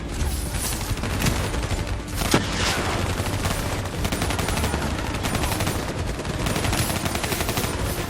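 Sustained turret gunfire in the video game Call of Duty Black Ops III: rapid, dense automatic shots rattling continuously and loudly, with occasional heavier impacts.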